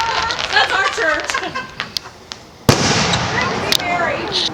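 Fireworks burst at a 2016 Indiana BBQ, with sharp loud bangs and crackles, one especially heavy blast midway, while people talk and call out nearby.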